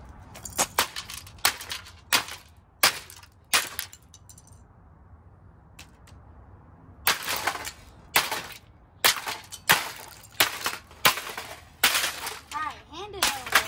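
An old CD player being smashed apart, with repeated loud sharp impacts and cracking of plastic and metal parts in irregular bursts, separated by short quieter gaps with faint background noise.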